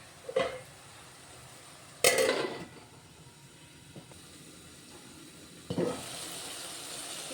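Ridge gourd pieces frying in a pan for an egg curry, a faint steady sizzle broken by a few sharp clatters of utensils against the pan, quiet and close with no talking.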